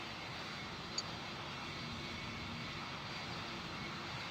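Jet engines of a Boeing Dreamlifter in the Pilot Training Flight Simulator game produce a steady, even roar that holds at one level throughout, broken only by a brief faint tick near the start.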